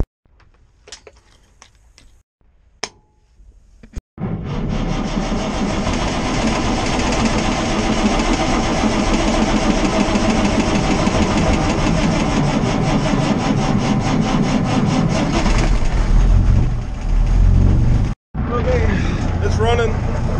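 Mack truck diesel engine cranking and catching after a few quiet clicks, then a loud, steady close idle while warming up, briefly interrupted near the end.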